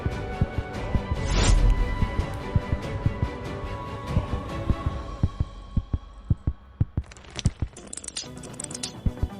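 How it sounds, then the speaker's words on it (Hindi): Fast, pounding heartbeat sound effect in a fan-made anime fight scene, with loud rhythmic thumps that start dense over a rumbling swell and then thin out into sharp, evenly spaced beats. "मेरी धड़कन तेज क्यों हो"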